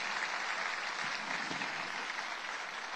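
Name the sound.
audience applause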